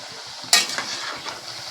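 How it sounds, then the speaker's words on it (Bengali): Fish roe and chhatu fritters fry in a pan: a sudden loud burst of sizzling when they hit the oil, then a steady crackling hiss with a few sharper pops, no talking. "মাছের ডিমের বড়াটা কত সুন্দরভাবে ভাজা হচ্ছে দেখুন।"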